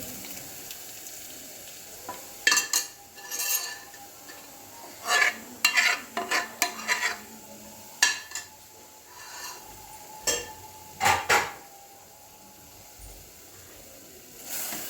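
Red lentils tipped into a pan and stirred for Telugu-style amaranth leaf (thotakura) dal, giving scattered scraping and rubbing strokes in short bursts over a low background, fairly close and with no one talking.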